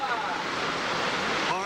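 Big ocean surf at the Mavericks break, a continuous broad roar of waves and whitewater with a wind-buffeted hiss, steady and fairly loud, no voices.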